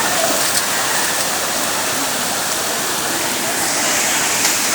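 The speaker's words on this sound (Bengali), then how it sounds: "এই দেখুন আমাদের সেই মূল ঝর্ণা" A waterfall in Chittagong roars with steady, broadband rushing water, loud and continuous throughout without any pause or change in level.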